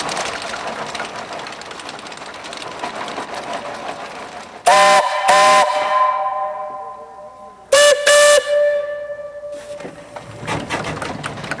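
Steam-powered Lombard Log Hauler, a tracked log-hauling locomotive with a steerable sled front, chuffing and rumbling steadily, then sounding its loud steam whistle in two short double blasts separated by a few seconds, with no talk.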